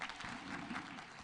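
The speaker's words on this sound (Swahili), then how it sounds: "Pigeni makofi." A crowd applauds at a political rally and prayer gathering in Nandi County, a brief burst of clapping, fairly distant and diffuse.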